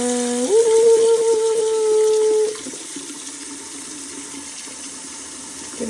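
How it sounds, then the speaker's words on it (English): Hot water runs from a tap into a bucket, filling it to dissolve a natural dye extract. A steady rush with a resonant tone rises in pitch for about two seconds as the level climbs, then settles into a quieter, softer flow. "I'm gonna fill this with hot water to make sure that it really dissolves."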